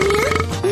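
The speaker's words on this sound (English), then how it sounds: "it's not a competition to see who can burp the loudest" A cartoon boy lets out one loud, drawn-out burp lasting under a second, close and with no talk over it.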